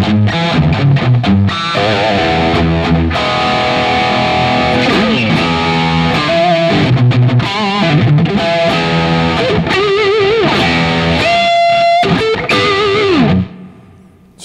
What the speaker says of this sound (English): All right, we gotta find some distortion here.